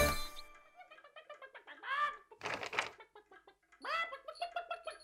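A hen clucks and squawks in quick, uneven bursts, fairly close, with short pauses between the calls.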